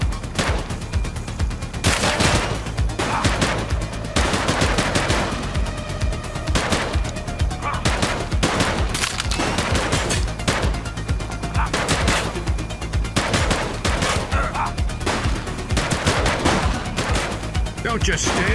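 Rapid gunfire crackles through a shootout in the video game The Precinct: repeated bursts and single shots in an intense, near-constant barrage, with voices mixed in at times.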